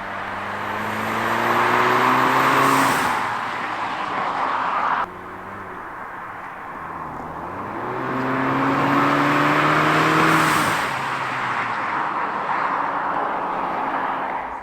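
A turbocharged Audi S3 or Mk7 Golf R engine revs up and falls back twice, each rise ending in a sharp hissing blow-off valve release, loud and close with no talking.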